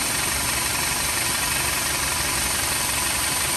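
Modified turbocharged Audi/VW engine running close by, a loud harsh rough rumble with rapid knocking pulses throughout the short burst.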